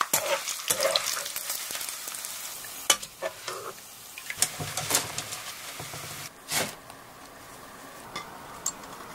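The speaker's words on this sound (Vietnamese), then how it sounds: "Cơm phồng lên thì mình đảo sơ rồi vớt ra để cho ráo dầu." Puffed dried rice frying in hot oil crackles and sizzles while a utensil stirs it, with scraping strokes and clatters against the pan in an uneven rhythm, close and clear with no talk.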